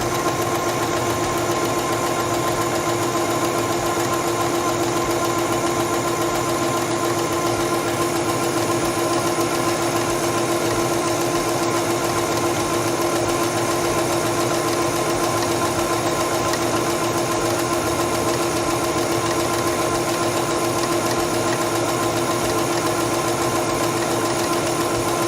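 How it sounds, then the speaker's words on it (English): A sewing machine stitches quilting fabric in a long continuous run, a steady close mechanical hum with a fine rapid needle chatter throughout and no talking. "Place the fabric under the presser foot, lower the presser foot, and begin sewing."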